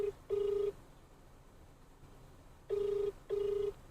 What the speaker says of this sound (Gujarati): પહેલાં હું ફોન કરું એક જણાને